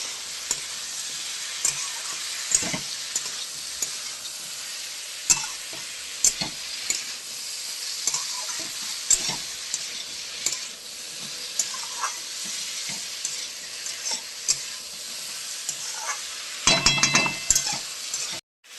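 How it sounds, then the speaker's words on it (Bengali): Young jackfruit frying in oil with chilli, a steady bright sizzle broken by repeated scraping and clinking as a utensil stirs the pan, with a louder clatter near the end. "আমি এঁচোড়টাকে এবার তেলের মধ্যে একটু ছেড়ে দিচ্ছি, নেড়ে চেড়ে নেব।"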